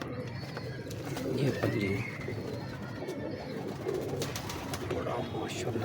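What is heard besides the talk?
pigeons cooing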